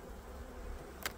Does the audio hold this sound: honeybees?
yes